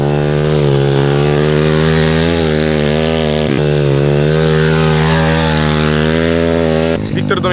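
MRF 140 TTR pit bike converted for flat track riding, its engine revving loud and close in a sustained buzzing whine with shifting pitch, cutting off briefly near the end.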